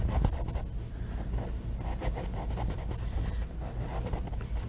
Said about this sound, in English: with just a little bit of medium, scrub that color in